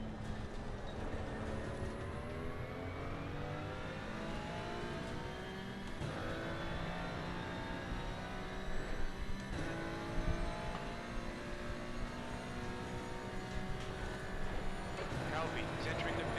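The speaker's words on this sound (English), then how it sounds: "There's a car approaching." Race car engines in a sim racing league game, a continuous loud engine drone rising and falling in pitch through gear changes, with a voice speaking over it.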